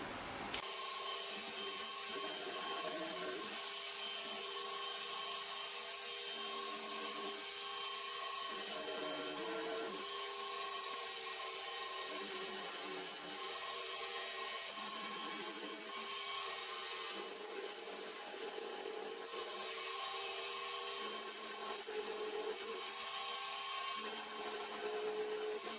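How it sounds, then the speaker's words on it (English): A milling machine with a 12mm end mill cuts steel while making a homemade V block, giving a steady high whining screech that rises and eases in repeating passes, close and without talk. "I'll change over to a 12mm end mill."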